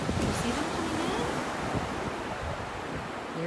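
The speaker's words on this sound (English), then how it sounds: "Listen to the waves. You see them coming in?" Ocean waves rolling in on a beach make a continuous wash of surf with some wind, moderately loud and steady, with faint voice-like sounds mixed in.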